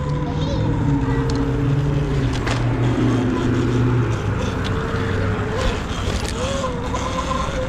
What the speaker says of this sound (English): Damn, this car's moving.